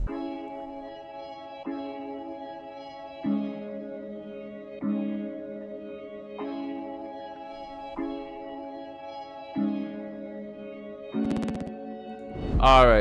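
Combo Breaker synth key preset from Analog Lab's Max Shooter bank, sustained tonal chords restruck every couple of seconds, then a burst of glitchy noise and a rising sweep at the end.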